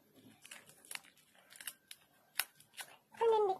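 Scissors snip through folded tissue paper in a craft project, a series of soft, crisp cuts and rustles close by, followed by a louder crinkling burst at the end.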